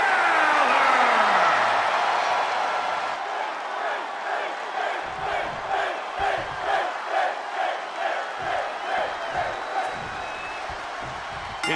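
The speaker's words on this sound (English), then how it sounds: "His sold-out crowd is on its feet." Arena crowd in the WWE 2K22 wrestling game, a loud roar of cheering that fades into rhythmic pulsing chants, with clapping and beats punctuating the steady crowd noise.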